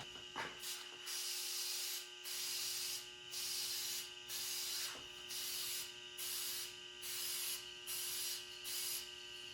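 A rattle can sprays paint onto a GM Silverado bumper in about ten short, evenly spaced hissing bursts, close and steady, with faint background hum and no talking.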